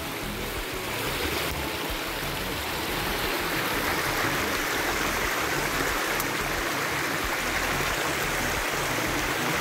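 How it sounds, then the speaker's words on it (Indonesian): Waterfall and stream at Curug Siroko in Pamriyan, Pituruh, Purworejo, running lighter in the dry season: a steady, broad rush of falling and flowing water that stays close and loud, with no voices. "Selamat datang di Curug Siroko."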